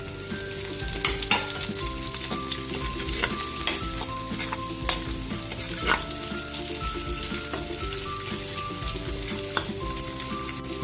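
Garlic and onion sauté in oil in a pan for ginataang kalabasa, a steady loud sizzle with scraping stirring strokes and occasional clinks of the utensil against the pan, with no talk.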